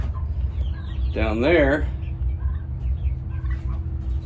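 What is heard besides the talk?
chickens clucking in a chicken coop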